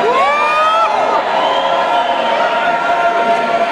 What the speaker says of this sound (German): bitte klatscht nicht so heftig